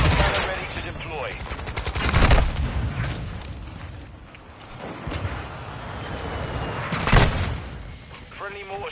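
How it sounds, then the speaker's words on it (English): Small arms gunfire in the video game Call of Duty MW2, with scattered volleys and sharp shots crackling, two louder bursts standing out, while a voice speaks over the action. "We're taking small arms fire."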